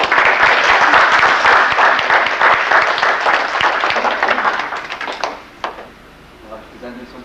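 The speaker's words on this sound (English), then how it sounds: "A clap to Emma." Wedding guests clap for Emma in a lively burst of applause from a gathered crowd, loud and sustained for several seconds before thinning to a few scattered claps and fading out.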